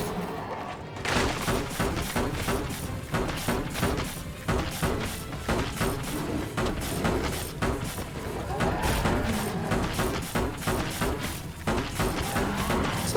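Rapid gunfire and impacts from combat in the video game Biomutant, a dense continuous barrage of repeated shots and thuds with game music and effects, loud throughout.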